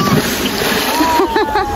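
A person jumps into the water at Canal d'Amour in Sidari, Corfu, with a couple of splashes near the end amid steady outdoor water noise, while people talk in the background.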